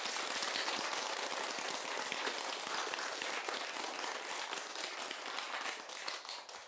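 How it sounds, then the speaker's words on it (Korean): An audience at Seongjuam temple in Seoul claps for a Buddhist monk after a talk-show segment. The dense, even applause holds steady throughout and trails off slightly at the end, with no talking over it. "큰 박수 한번 부탁드리겠습니다"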